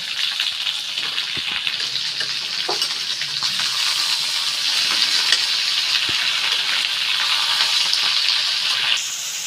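Carrots, sweet potatoes and vegetable stalks sizzle and fry steadily in a pan for a Bengali sukto, a continuous close hiss with occasional stirring clicks.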